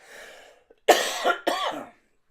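A close-up bout of harsh coughing, two or three rough bursts in quick succession after a faint breathy lead-in.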